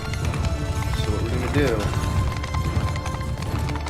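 Horses galloping in a battle video game, a steady drumming of hooves over rumbling battle noise, with someone talking over it throughout.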